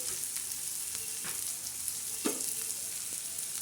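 Onion sautés in a pan until reddish, a continuous close hiss and crackle of frying with occasional soft stirring scrapes and no talk.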